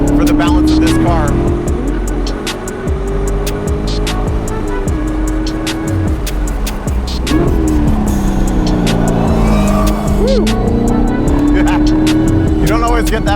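Chevrolet C7 Corvette on Falken tires lapping a race track, its loud engine roaring continuously with rising and falling revs through gear changes, close and dominant throughout.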